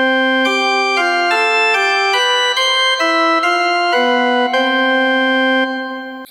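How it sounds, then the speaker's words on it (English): A Hammond XK5 organ plays a bright, high-pitched principal chorus with a 4-rank mixture, sounding a sustained sequence of chords that change about every half second, loud and steady before fading out at the end. "The drawbar that's labeled 8-foot gives us a combination of principal chorus with a"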